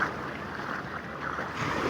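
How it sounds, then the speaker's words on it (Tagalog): Strong surf at Kasigura beach gives a steady, full roar of breaking waves mixed with buffeting wind across the microphone, with no voices. "Ang lakas ng alon."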